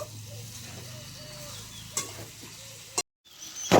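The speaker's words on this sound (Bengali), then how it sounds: "মাছের মাথাটা দিয়ে আরো 2 মিনিট আমি কষিয়ে নেব" Taro, potato and fish head sautéing with spices in a pan make a continuous sizzle with occasional spatula scrapes. Near the end the sound cuts out briefly, then returns as a louder burst.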